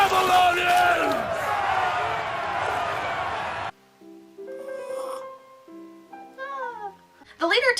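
Barbarian warriors in a scene from The Scorpion King roar and cheer together in a loud, dense crowd, then the noise cuts off abruptly. Sparser scattered shouts and voices follow, with a final burst of yelling near the end.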